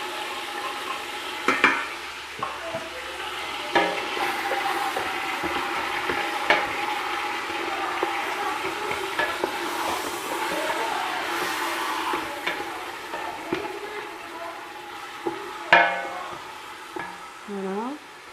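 Garlic sizzles and fries steadily in a pan for Algerian couscous, with occasional stirring scrapes and clinks throughout.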